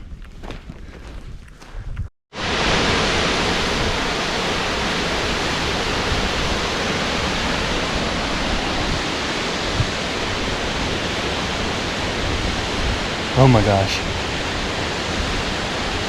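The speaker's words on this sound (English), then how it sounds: "My first real waterfall." Tuolumne Falls in Yosemite, on the Tuolumne River, fills the air with a loud, steady broadband roar of rushing water that cuts in after a brief, quieter start, with a short exclamation from a person near the beginning.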